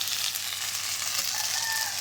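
Ginger-garlic spice paste frying in oil left over from frying fish, giving a steady close sizzle and hiss with faint stirring and no voices.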